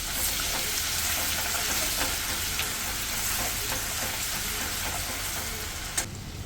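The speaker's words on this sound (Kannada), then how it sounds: "ಇದಕ್ಕೆ 1 ಸ್ಪೂನಷ್ಟು ಬೆಳ್ಳುಳ್ಳಿ ಶುಂಠಿ ಪೇಸ್ಟ್ ಹಾಕ್ಕೊಳ್ತಾ ಇದ್ದೀನಿ. ಇದು ಸ್ವಲ್ಪ ಫ್ರೈ ಮಾಡ್ಕೊಳ್ಳೋಣ." Ginger garlic paste and cumin fry in oil for a Hogenakkal-style fish curry, giving a dense, steady close sizzle with light stirring ticks and a sharp clink near the end.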